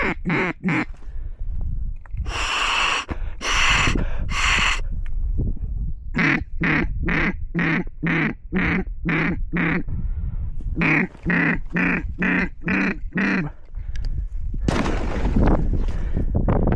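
Widgeon ducks calling in a rapid series of repeated nasal notes during a duck hunt in a blizzard, followed by a sharp, loud burst near the end like a shotgun shot, over steady wind noise.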